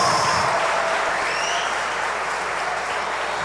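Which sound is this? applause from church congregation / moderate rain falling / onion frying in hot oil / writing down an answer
applause from church congregation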